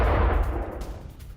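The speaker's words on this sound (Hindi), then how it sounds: "देखिए किस तरह से 7वां 8वां धमाका, और इसके बाद हर तरफ धुआं उठता दिखाई दिया" An explosion in the Russia-Ukraine war booms loudly with deep rumbling energy, then fades into a distant, decaying roll with faint crackles.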